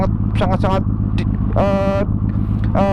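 A first-series Yamaha MT-01 with an Akrapovic exhaust rumbles with a deep, heavy bass drone, heard from the rider's seat on a ride in Surabaya while he talks over it, the note swelling twice.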